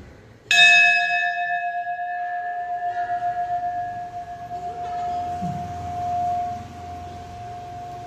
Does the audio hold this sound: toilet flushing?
no